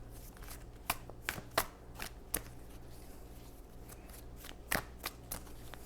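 Tarot cards are shuffled close by in a quiet room, with scattered crisp flicks and slaps of card edges in two loose clusters against a low steady hum.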